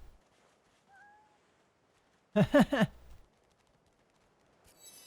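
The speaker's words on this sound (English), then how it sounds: "The cat's following me." Cat meowing in the role-playing game Divinity: Original Sin II, a single close, loud run of several quick meows in the middle, with quiet game ambience around it.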